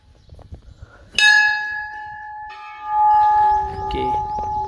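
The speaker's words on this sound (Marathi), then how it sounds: "घंटी मी पण वाजवतो." A temple bell is struck at Shri Kalbhairavnath temple in Banpimpri, ringing out in a loud metallic clang that sustains and shimmers, then is struck again about a second later, with faint ambient sounds beneath.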